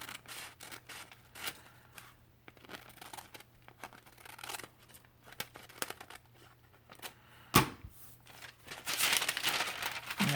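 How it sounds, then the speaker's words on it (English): Scissors trimming the edge of paper in a workshop journal project, a few soft snips and crinkling rustles close by, with louder handling noise toward the end and no talk. "I'm just going to take my scissors and I'm just going to cut a little bit off the edge of that"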